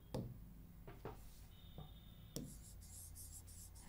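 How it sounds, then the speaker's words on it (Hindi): Black marker writing on a board, with a few soft squeaky strokes and taps spaced apart, quiet and close, then a brief longer scratchy stroke, with no talking. "ब्लैक से लिखती हूँ"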